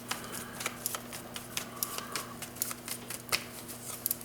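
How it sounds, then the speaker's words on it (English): Tarot cards are shuffled by hand in a run of quick, crisp riffling snaps and slaps, close and fairly quiet, with an uneven rhythm and no speech. "I shuffle really good"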